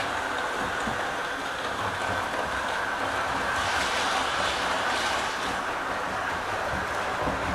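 A small train rolls steadily along its track with a continuous whirring hum and light rattling, close by and unbroken.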